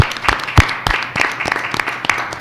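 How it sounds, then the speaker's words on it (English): Scattered, sparse hand claps from a small audience at a college council meeting honoring faculty members, a few distinct claps spread over a couple of seconds. "let's give them a round of applause as well."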